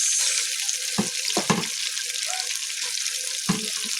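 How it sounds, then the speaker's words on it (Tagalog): Onions frying in a pan for chicken biryani give a steady, moderate sizzle, broken by a few short knocks and scrapes as they are stirred. "Lutuin muna natin ang sibuyas."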